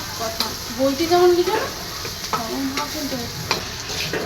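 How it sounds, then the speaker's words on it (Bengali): Onion, green chili and black cumin sizzle and crackle in a hot pan while a utensil stirs and scrapes, with a voice speaking briefly over the frying. "ভাজা পেঁয়াজ কাঁচামরিচ কালো জিরে ভাজা হয়ে গেছে"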